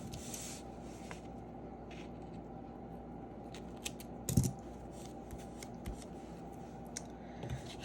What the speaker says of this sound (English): then I would go in with my scissors